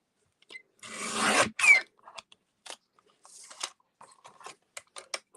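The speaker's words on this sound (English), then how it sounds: "So in comes that little trimmer." A small paper trimmer blade slices through cardstock in one long rasping stroke, followed by a quick second scrape, then faint scattered clicks and shuffles of the trimmer and paper, close and quiet with no talk.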